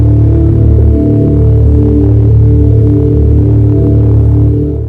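A loud, steady electric hum drones throughout, layered tones with a faint throbbing quality, continuous and close, fading slightly at the end.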